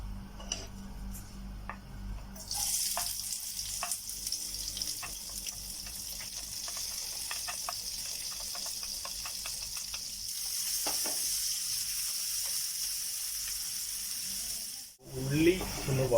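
Onions hitting very hot oil for an egg and green peas masala burst into a loud, continuous sizzle that keeps up steadily with light stirring taps, after a quieter start.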